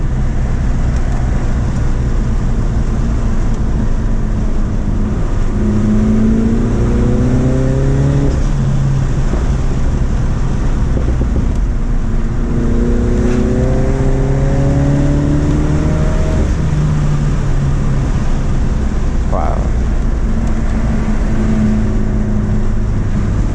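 A Dinan Elite Stage 1 tuned F56 Mini Cooper JCW pulls hard in third gear, its loud, close engine note climbing through two sustained rising surges over a constant roar of road and cabin noise.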